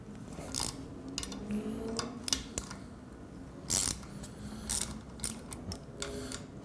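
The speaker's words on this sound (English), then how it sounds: "now we can take the handlebar clamp off using our 6mm Allen" 6mm Allen key loosening the handlebar clamp bolts on a Triumph Speedmaster motorcycle: faint, scattered metallic clicks and ratchety taps with quiet pauses between, close by and without talk.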